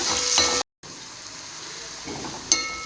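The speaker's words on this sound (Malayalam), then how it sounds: "അപ്പോൾ ഉള്ളി ഏകദേശം നന്നായിട്ട് മുരിഞ്ഞിട്ടുണ്ടെന്ന് തോന്നുന്നു അല്ലേ" Onions for a Hawaiian crab roast sizzle steadily in a pan while being stirred, with a brief break in the sound and a sharp scrape near the end.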